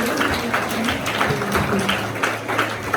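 Applause from the audience at a school assembly in English: a dense, steady patter of many hands clapping, fairly loud and continuous, with faint voices mixed in.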